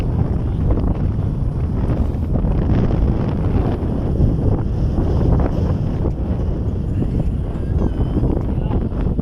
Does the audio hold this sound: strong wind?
yes